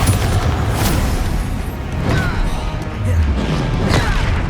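Bombarda spell explosions from the video game Hogwarts Legacy, loud booming crashes with rumbling impacts that repeat over a dense, continuous layer of game combat noise.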